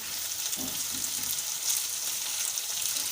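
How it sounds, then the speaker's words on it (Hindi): Broccoli manchurian fries in a pan with a constant bright hissing sizzle, close and even, with a few soft stirring taps early on and no talk. "1 मिनट तक फ्राई करिए।"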